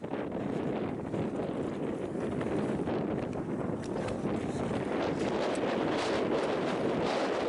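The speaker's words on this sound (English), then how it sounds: "this wind is bad" Strong wind buffets the microphone on the San Juan River, a steady loud roar of rushing gusts, heard alone with no talking.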